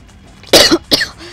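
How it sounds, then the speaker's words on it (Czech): A sick man in a Czech truck-game commentary coughs twice in quick succession, loud and close, with a brief rough burst followed by a second hack. "jsem trošku nemocný. Z toho kašle."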